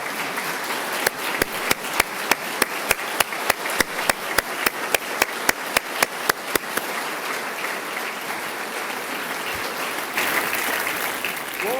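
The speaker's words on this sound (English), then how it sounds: "Give her a round of applause." Audience applause at a state government address, a large hall crowd clapping loudly and continuously, with one sharp rhythmic clapper standing out in even beats for most of the stretch before the sound swells near the end.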